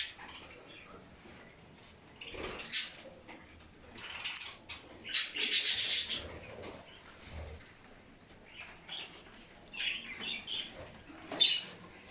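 Budgerigars kept in an aviary chirp and twitter in scattered bursts, with one denser flurry of calls in the middle, fairly close and moderately loud with quieter gaps between.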